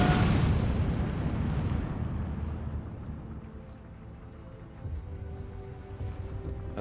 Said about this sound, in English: Artillery fire coming in from the rear